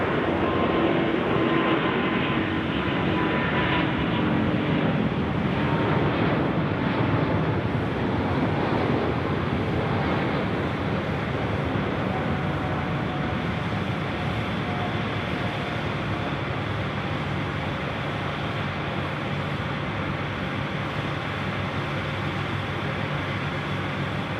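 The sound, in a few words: aircraft landing at Sydney Airport at night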